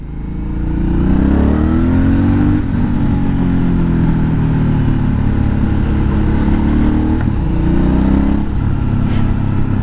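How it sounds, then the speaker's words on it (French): Aprilia Shiver 900 motorcycle on the road, its mid-pitched engine droning steadily and loud up close, with slight rises and falls in revs as it rides. "c'est la première moto que j'essaie qui a un joli bruit"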